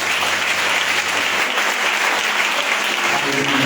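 A church congregation at a Sunday service applauds and cheers, a loud, dense wash of clapping that holds steady for a few seconds and fills the room.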